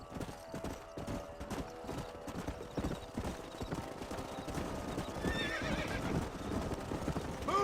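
Hooves clip-clop in a quick, uneven rhythm as horses move along in the video game Red Dead Redemption, with a horse whinnying near the end.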